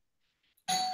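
A single bright doorbell chime rings out suddenly after near silence, clear and fairly close.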